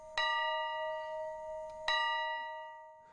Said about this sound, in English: The bell at Mount Zion Church was rescued from the ashes of the 1964 fire.